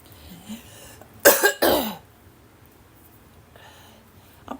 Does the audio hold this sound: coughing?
yes